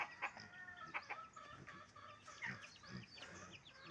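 Chickens clucking with a rooster's calls mixed in, moderately faint, with a steady outdoor background.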